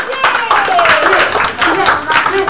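Clapping from an audience at an improvisation match, mixed with voices talking and a brief whistle-like glide, lasting a couple of seconds at fairly close range.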